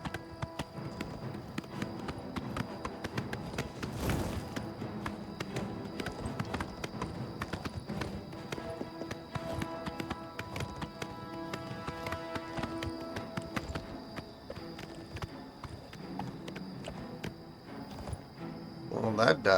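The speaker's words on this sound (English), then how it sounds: "Come on, horse. We are walking really slow up this hill." Steady clip-clop of a horse's hooves walking slowly uphill in the video game Oblivion Remastered, continuous throughout, with a busy musical background layered underneath.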